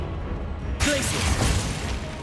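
A Glacius ice spell cast in the Hogwarts Legacy video game, a sudden bright crackling burst that flares up and holds as a dense, hissing spray, loud and close over a low rumbling game background.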